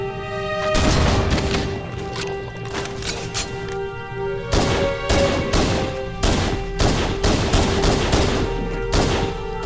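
Gunfire in Halo: Combat Evolved, with repeated sharp shots in irregular bursts and clusters over about ten seconds, loud and close, with a steady electronic tone running beneath.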